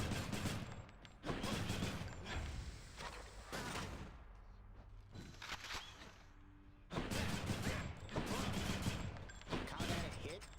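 Adamant Rail gun firing in Hades, dense bursts of rapid sharp shots in loud clustered volleys broken by brief pauses, with game voices speaking in between.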